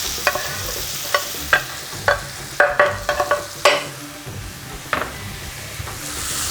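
Ground beef and pork mixed with onions fry in a pan for keema curry. A soft sizzle runs underneath while a utensil scrapes and taps against the pan in repeated, uneven strokes, with no voices.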